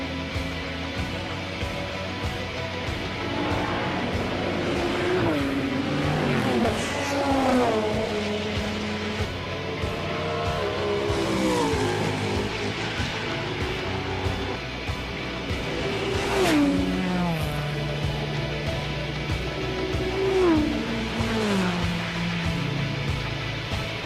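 Race cars roar around the Nürburgring Nordschleife in the Gran Turismo video game, engines revving up and down through repeated gear shifts, with several cars sweeping past in loud, rising and falling passes.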